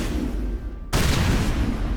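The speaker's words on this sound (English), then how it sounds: "Just gotta make sure to stand back from the explosion." A loud explosion from the Mass Effect video game, set on a moon, where toxic material is being vented; a sudden heavy boom cuts in and rolls on as dense, sustained rumbling noise.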